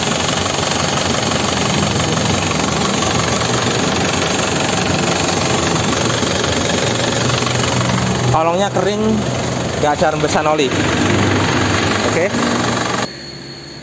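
A 2009 Isuzu Panther Grand Touring engine runs with a loud, steady, close rattling drone that continues throughout while someone talks over it near the end.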